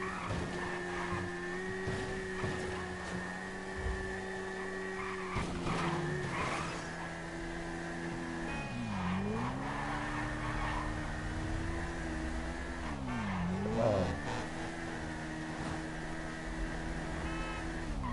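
A car in GTA V Online drives at steady speed with a constant engine whine, then skids twice in swooping tire squeals, all fairly quiet and continuous.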